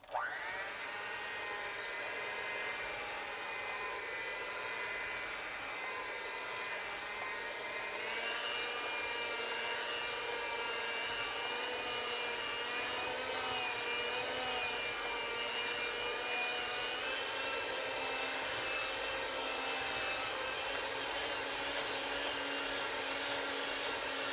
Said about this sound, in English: it's time to actually turn on the mixer